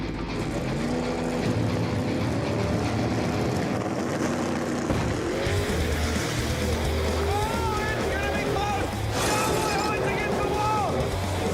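Drag racing cars launch off the start line in a street outlaws semi-final, loud engine roar and revving building under an excited announcer's voice, with a crowd around.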